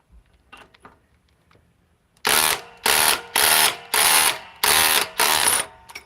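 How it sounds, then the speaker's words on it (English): A DeWalt XR DCF870 hydraulic impact driver runs in six loud, evenly spaced bursts of whirring hammering, each about half a second long, following a quiet stretch of faint handling noise. "DeWalt XR DCF 870 hydraulic, 120 foot-pounds."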